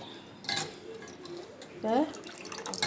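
Soaked lentils are rinsed in water in a metal vessel, giving a few short splashes, clinks and sloshes up close, with brief vocal sounds in between.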